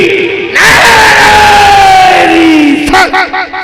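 A large crowd at an Urs gathering roars the takbir response in unison, a loud, sustained collective shout close by that fades into a few scattered trailing voices.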